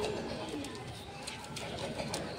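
Madrasi pigeons coo in a loft in Kharagpur, soft low rolling coos repeating close by over a constant background hum.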